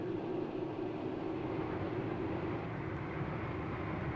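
A vintage train descends a gradient into a dip on a curved railway line at under 20 mph, giving a steady, continuous rumble of running gear and engine, close and unbroken throughout.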